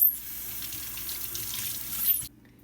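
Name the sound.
water running while rinsing peeled garlic in sink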